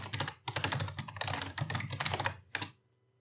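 Rapid keystrokes on a computer keyboard, typing in a quick, dense burst of clicks that fills most of the stretch, close and clear, then ends with a final tap and quiet.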